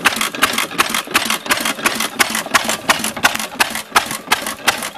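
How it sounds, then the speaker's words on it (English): A restored 1914 Friend stationary engine runs with a loud, regular mechanical beat. Sharp clattering pulses repeat several times a second, close up and alone. "Very nice engine."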